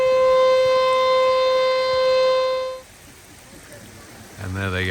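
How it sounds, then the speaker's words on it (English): A loud, steady air raid siren wail in Japan, signalling fire hydrants about to spray, holds one sustained pitch for a few seconds, then cuts off, leaving a quiet outdoor hush before a voice starts speaking. "Second blast of the air raid siren means the hydrants are about to go off."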